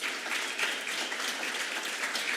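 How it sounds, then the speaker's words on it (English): A school benefit celebration audience applauds its teachers, a dense, steady wash of many hands clapping at even loudness throughout, with no voices standing out. "Give them a round of applause."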